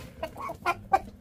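A rooster on a sheep and bird farm gives three short clucks, evenly spaced and fairly close, with quiet background and no talk.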